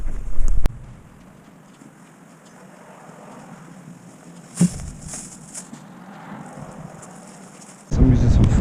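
Strong gusting wind during a tropical storm of around 40 mph, roaring as a steady broadband rush over the microphone with louder buffets at the start, midway and the end; no talk is heard.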